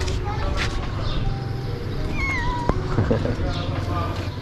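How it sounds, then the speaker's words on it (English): A cat meows outdoors in a village on Paros island, Greece, with a rising, wavering call near the middle, heard over a steady background of ambient noise and murmuring voices. "No escaping the cats in Greece."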